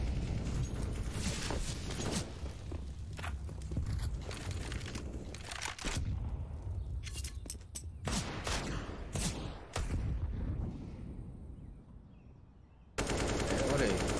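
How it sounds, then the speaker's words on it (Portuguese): Counter-Strike rifle fire rattles through a professional NAVI versus Astralis match on the Inferno map, with repeated rapid bursts and fusillades separated by short lulls, partly under a caster's commentary. "muito tiro rolando ali para cima dos Ipex"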